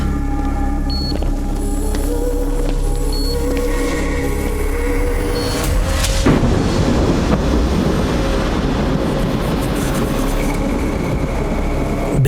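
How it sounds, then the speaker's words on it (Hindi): A thunder crack in an action-movie scene bursts in sharply about halfway through, then fades into a broad, sustained rumble over a steady background of tones and hum. "बिजली कड़की और साथ में पावर आ गया"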